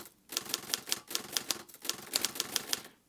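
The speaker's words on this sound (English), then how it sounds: "Next, I want to show you the Olivetti typewriter instrument." Olivetti typewriter keys clatter in a quick, uneven run of sharp mechanical strikes, close and crisp with no voices.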